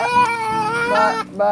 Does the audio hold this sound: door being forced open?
no